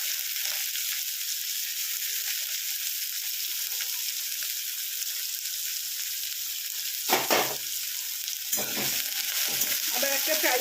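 Finely chopped onions frying with garlic in a pan, a steady close hiss of oil with a couple of louder stirring scrapes near the end, no talking.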